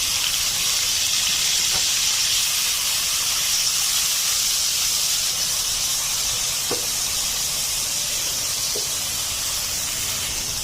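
Eight to ten shrimp marinated with black pepper, turmeric and salt fry in a pan, giving a loud, continuous oily sizzle and hiss with a few faint clicks, steady throughout and without talk.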